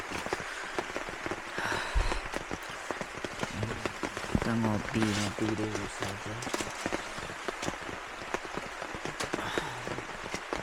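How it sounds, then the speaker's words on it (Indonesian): Light rain falls outside on a mountain climb on Gunung Sindoro, a steady soft patter with scattered drops on surfaces throughout, as people talk nearby. "keadaannya di luar tuh lagi hujan, nggak deras banget sih, biasa aja"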